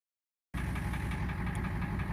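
A 1979 Ford F250 4x4 with a 7.3 IDI diesel, not started in about a year, runs at a steady knocking idle, loud and close, starting abruptly after a moment of silence.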